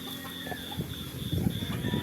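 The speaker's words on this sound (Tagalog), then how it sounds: "Ang dami kong manok dito." Flock of chickens clucking on a farm, a busy cluster of soft short calls rising in the second half, fairly near, with no talk over them.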